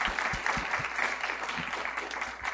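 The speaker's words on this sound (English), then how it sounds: "let's please give a warm round of applause to our excellent panelists." An audience claps for the panelists at the end of an academic panel on generative AI and political science, giving steady, moderately loud applause throughout.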